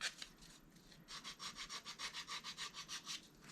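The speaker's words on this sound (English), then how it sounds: "I'm just going to go over that with my emery board" An emery board rubs back and forth along paper edges on a craft card, a faint, quick rhythmic scratching of about a dozen close strokes.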